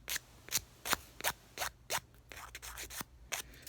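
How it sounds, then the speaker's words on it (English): Nail file rasping across a fingernail during an at-home manicure, a quick series of about a dozen short, crisp strokes heard up close and fairly quiet, with no talking. "however you want that nail to be shaped when you're done filing it"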